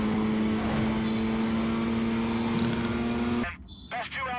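Engine drone of a car driving in the 2006 racing video game Need for Speed Carbon, a steady humming tone with road noise that cuts off abruptly near the end, leaving faint sounds.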